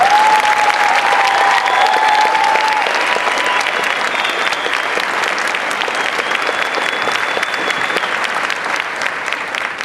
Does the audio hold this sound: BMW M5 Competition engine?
no